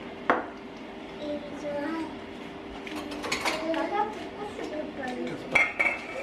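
Meat is stirred in a pot in a Jamaican home kitchen, with repeated clanks and scrapes of a spoon against metal, close and moderately loud under ongoing conversation.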